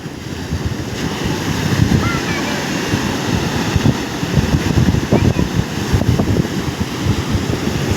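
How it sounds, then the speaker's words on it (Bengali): Big sea waves break at Digha beach, a broad continuous surf roar with wind buffeting the microphone, and voices are heard now and then. "সেই রকম লেভেলের ঢেউ কত দূর দূর থেকে দেখা যাচ্ছে"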